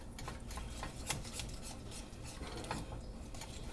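A whisk stirs thickening homemade play dough in a pot, giving faint, continuous scraping and soft ticking strokes against the metal with a rough, rasping texture.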